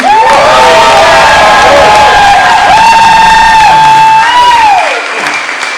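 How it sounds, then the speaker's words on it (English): Film festival audience at a Q&A for Nick Nolte bursts into loud applause and cheering, with whoops and shouted voices riding over dense clapping that fades near the end. "How about a round of applause for Nick Nolte?"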